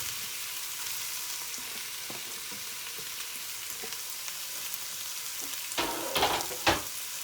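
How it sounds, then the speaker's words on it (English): Onions hiss and crackle in a hot pan as they stir-fry, a steady close sizzle with a few louder scraping stirs near the end. "And you stir fry that for about"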